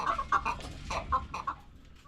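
Chickens cluck inside a coop in a run of short, choppy bursts, several hens overlapping at a moderate, close level with no talk.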